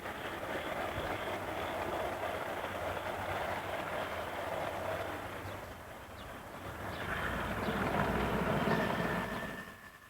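A model ex-Great Northern 0-8-0 steam locomotive hauls a mineral train up a 1 in 40 gradient on a model railway, giving a steady rumbling run that swells near the end, then cuts off.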